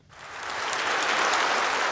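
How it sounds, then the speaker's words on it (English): Applause greets the chair of the infected blood inquiry, a roomful of clapping that rises quickly from near silence to a steady, full roar and holds there. "Applause for the chair of the infected blood inquiry before he even began to deliver his latest findings"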